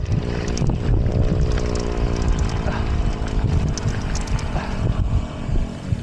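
Strong wind roars across the microphone during a Holy Week ride to Kaybiang Tunnel, a loud, steady broadband rush with engine hum beneath it throughout.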